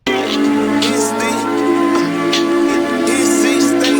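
A hip-hop beat plays its melody elements all together: sustained synth-like tones layered with sliding, voice-like swoops, steady and loud for a few seconds.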